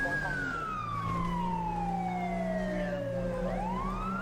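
A police car siren in GTA 5 wails in a long falling sweep and then starts rising again, loud and close over a low engine rumble.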